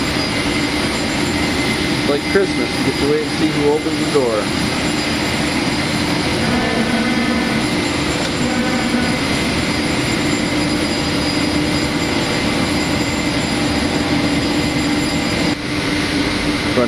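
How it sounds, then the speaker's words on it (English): An airport jetway moves toward a parked aircraft, a low continuous mechanical drone and rumble, with steady ground-equipment noise at an airport and someone talking over it. "he's bringing the jetway up to the plane"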